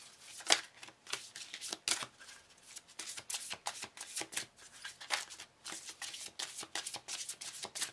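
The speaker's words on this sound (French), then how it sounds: "Je vais mettre une carte d'abord ici." Tarot cards slapped and shuffled on a table during a reading, a quick irregular series of close, crisp flicks and taps with no voices.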